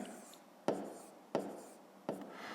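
Chalk or pen strokes writing numbers by hand during a fifth-grade math lesson, three short scratchy taps spaced about two-thirds of a second apart, close and fairly quiet, no talking.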